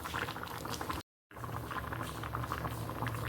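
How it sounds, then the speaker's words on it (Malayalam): Curry boils vigorously in a pot, a dense bubbling and popping that is briefly cut by a short gap of silence, then resumes at the same close, steady intensity. "നന്നായിട്ടൊന്ന് തിളച്ച് വരട്ടെ."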